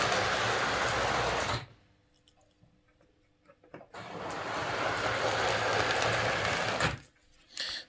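Hornby Class 2P model locomotive motor whirring on a reversed 9-volt battery, an even buzzing run, a short break with faint clicks, then a longer steady whir before stopping, close and quiet.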